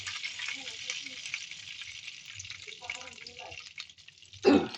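Galunggong fish fry in a pan of oil, giving off a soft, steady sizzle while voices murmur nearby, ending with a brief louder clatter of cookware.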